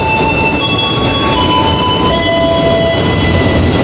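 An Indonesian Batavia passenger train from Gambir to Yogyakarta rumbles loudly and steadily close by, with thin high-pitched metallic wheel squeals ringing over the noise.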